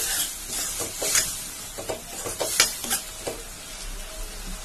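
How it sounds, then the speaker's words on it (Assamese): Food with turmeric being stirred and mixed in a hot pan, a spoon scraping in an uneven rhythm over a steady sizzle of frying, close and fairly loud with no voices. "আৰু এতিয়া মিলাই ল'ম ভালদৰে"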